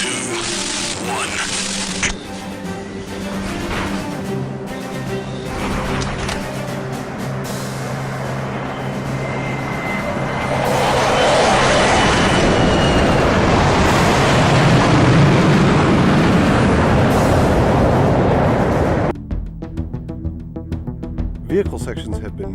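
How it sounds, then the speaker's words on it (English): Explosions from a Longsword fighter's bombing run in the Halo SPV3 game, a dense roar that swells midway into a long rumbling barrage, then cuts off sharply near the end, with a voice talking underneath. "Starting my bombing run in 5, 4, 3, 2, 1."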